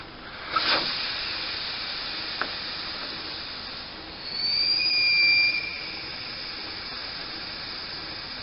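A steady hiss of air escaping a tire through a valve with its core removed, swelling louder for a few seconds midway, with a thin whistling tone riding on top.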